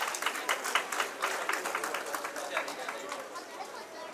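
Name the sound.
applause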